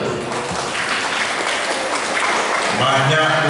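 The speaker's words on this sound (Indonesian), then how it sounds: "Tepuk tangan." Loud, close applause from an audience at a public village gathering in Muara Enim, a dense sustained clatter of many hands with voices faintly audible underneath.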